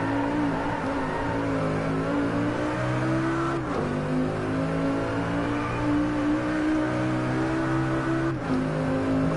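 A racing car engine drones at high revs in the Driveclub video game, loud and close, with steady harmonic whine, two brief dips as gears shift, and no talking.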